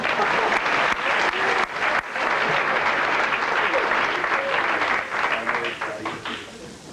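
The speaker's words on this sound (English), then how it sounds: "So we'd like to give a round of applause for those three coaches" A high school football banquet audience at Ames High in 1995 claps for the team's defensive coaches, producing dense, steady applause that fills the room for the whole stretch and tapers slightly at the end.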